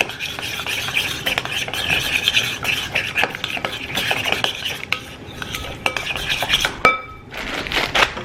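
Food being mixed in a bowl with a utensil, close scraping and clinking strokes in quick irregular succession, alone without talk.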